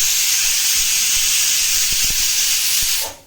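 A pressure cooker vents steam through its whistle while cooking Rajasthani winter haajiya, a loud continuous hiss that holds for about three seconds and then cuts off abruptly, with faint clicks underneath.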